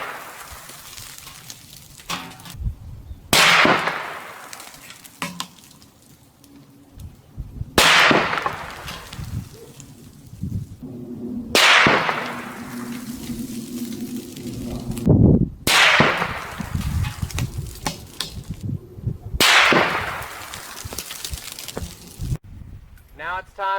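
Rifle shots fired at plastic jugs 245 yards downrange, with Sellier & Bellot ammunition: five sharp, loud cracks spaced a few seconds apart, each trailing off in a brief echo, over low outdoor background noise.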